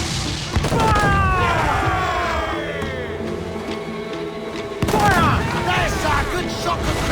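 Ship cannons booming during a naval battle in Assassin's Creed IV Black Flag, a dense rumbling barrage with a fresh loud volley partway through, mixed with shouted crew voices and game noise.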